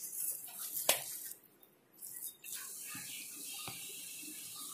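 Water runs into a pressure cooker in a home kitchen while rice fara dumplings are being made, a soft broadband splashing hiss with a brief pause in the middle and a few small clinks.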